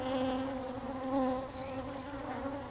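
Angry honeybees swarm around a disturbed hive, giving off a dense, steady buzz up close that holds without a break.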